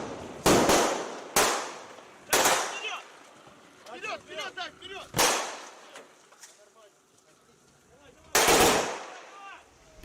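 Sharp gunshots crack out during a maritime counter-terrorism exercise on a seized vessel in a port: several loud single shots spaced irregularly, with a voice talking between them.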